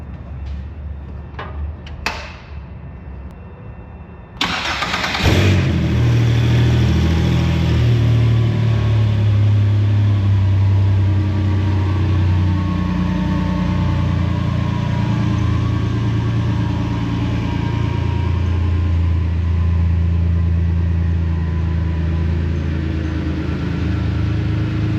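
A car engine cranks with a few short bursts, catches and settles into a loud, steady idle running close by for around twenty seconds, with no talking.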